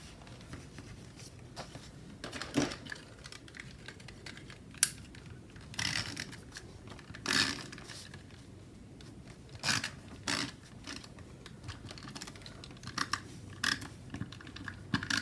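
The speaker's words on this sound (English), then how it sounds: "I have this fold out page that folds out like so. And I'm going to tape it down." Tape handled and pressed down onto a fold-out planner page, heard as faint close scattered crinkles, taps and peeling scrapes over a quiet background, no voices.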